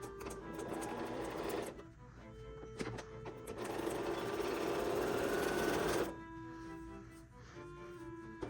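Sewing machine stitching 2.5-inch quilt strips together, running in steady bursts with brief pauses between, close and fairly loud, with a faint voice in the background at times.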